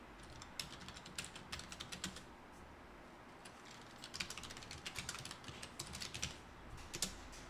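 Text is typed on a computer keyboard with rapid, light key clicks in irregular bursts and short pauses, fairly close and quiet.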